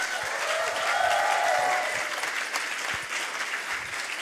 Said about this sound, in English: A big applause for Vito Mengers.